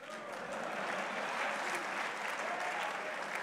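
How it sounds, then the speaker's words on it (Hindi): An audience applauds at a funny poetry recital with a steady, dense patter of many hands clapping. It sounds moderately distant and fairly quiet and holds evenly throughout. "मारिए तालियां, मारिए।"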